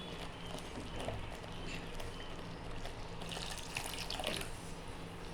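Water pours into a cooking pan of simmering vegetarian aubergine dish with raisins, a soft steady splash and trickle over low kitchen hiss, with no one speaking.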